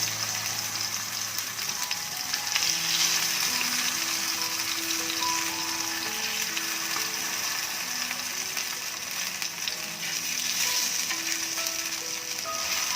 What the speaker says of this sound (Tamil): இது அப்படியே ஃப்ரை ஆகட்டும்